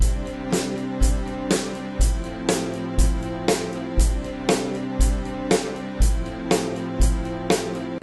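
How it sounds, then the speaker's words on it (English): A straight-ahead rock drum beat drives over a chordal music loop, with kick and snare hits alternating on a steady pulse about twice per second, punchy and close. "you could play this song as a straight ahead rock tune"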